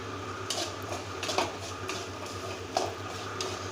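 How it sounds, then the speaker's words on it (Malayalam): A utensil scrapes and knocks against a pot while vegetables and ration rice are stirred, giving soft irregular clinks and scrapes over a steady low background hum. "സാധനം നന്നായിട്ട് ഇളക്കിക്കൊണ്ടിരിക്കുകയാണ്."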